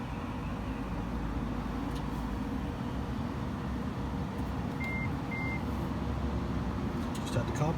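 Two short electronic beeps from a 2018 Nissan Leaf as the charging connector plugs in, sounding in quick succession over a steady low hum of background noise.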